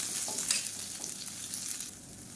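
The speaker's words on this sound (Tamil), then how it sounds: "வெங்காயம் ரொம்ப வதங்கணும்னு அவசியம் இல்லை லேசாக வதங்கினா போதும்" Sliced onions sizzle quietly in a pan for a black channa dal egg masala, with a couple of soft stirring scrapes over the steady low frying hiss.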